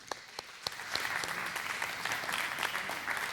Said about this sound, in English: You can clap for her being at every feast.